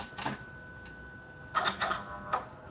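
An embroidery machine stitches a Halloween sample in short bursts of rapid mechanical clatter, one near the start and a cluster of quick runs later, with a faint steady whine beneath and quiet gaps between.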